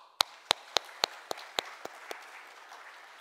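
Sparse applause from a church congregation, about eight separate sharp claps spaced through the first two seconds that thin out and die away, fairly faint and heard alone.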